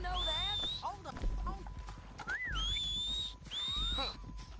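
Horse hooves clip-clopping in the video game Red Dead Redemption 2, a steady trot mixed with sharp whistling tones and game voices talking over it.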